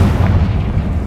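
A fiery blasting-spell explosion in a wizarding video game, a sustained low rumbling boom that fills the whole second, loud and close with no voices over it.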